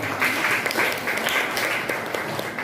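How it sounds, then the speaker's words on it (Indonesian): An audience at a teacher-training presentation claps steadily, a dense, even wash of applause from a room of people, with no voices standing out. "tepuk tangan sekali lagi"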